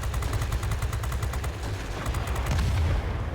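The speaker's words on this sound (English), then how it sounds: "So you have this 30mm cannon, of course, but you've also got 4 30 cal machine guns" Rapid automatic fire from a Bf 110 C-6's 30mm cannon and machine guns in World of Warplanes, dense overlapping bursts with heavy low thumps and a rattling stream of shots, loud and continuous with no talk.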